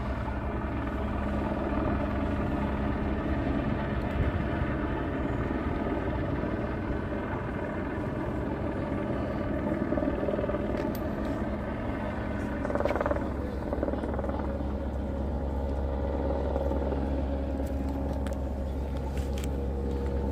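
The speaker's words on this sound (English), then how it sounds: "This helicopter's been posted." A helicopter hovers overhead above a shooting scene at a church in Laguna Woods, Orange County, a steady low rotor drone that holds at moderate loudness throughout with faint distant street noise and no talk.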